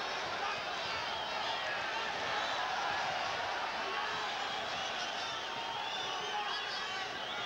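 At the Great Western Forum, a boxing arena crowd roars in approval during the Carbajal–Gonzalez rematch, sustaining a dense, steady wall of cheering and shouting from start to finish.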